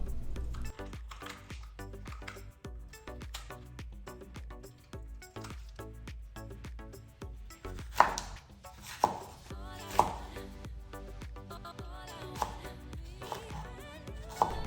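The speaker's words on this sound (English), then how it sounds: "cut our pepper into cubes" Knife chopping a pepper into cubes on a cutting board, a fast steady series of crisp close taps with a few louder knocks, alone without talk.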